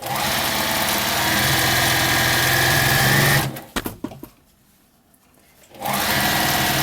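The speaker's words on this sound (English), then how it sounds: "I'm going to stitch down the binding onto the back of the quilt." A sewing machine runs at a steady, loud hum while stitching binding onto the back of a quilt, then stops with a few clicks and near silence before the motor starts up again.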